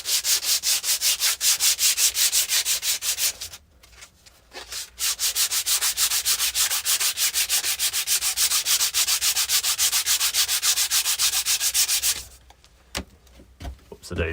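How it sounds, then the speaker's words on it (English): Wooden pieces for a river table being sanded by hand, a steady close scratchy rubbing in fast back-and-forth strokes that pauses briefly twice and then resumes. "quickly sand them all up"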